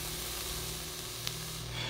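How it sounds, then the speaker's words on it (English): A YiHi SXMini vape with a rebuildable coil sizzles and hisses steadily as it fires and produces vapor, a close, continuous crackling spray sound. "it's really sizzling and producing a lot of vapor"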